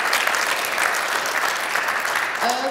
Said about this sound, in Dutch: Nog één keer een heel hartelijk applaus voor onze gasten van vanavond.